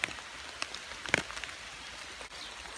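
Rain falls in a forest near Truskavets, Ukraine, a constant soft hiss broken by scattered close drips and taps of drops striking leaves and surfaces, with no voices.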